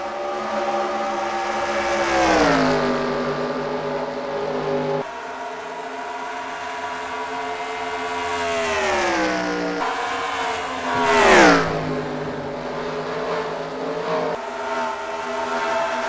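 A Porsche race car runs laps on the Texas track, its engine droning steadily with repeated gear shifts and one sharp high-revving pass, loud and continuous with no talk.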